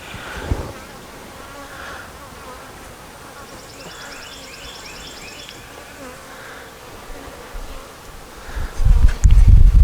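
A steady, dense drone of many honeybees buzzing close by in a hive, with a brief clatter and rustle near the end.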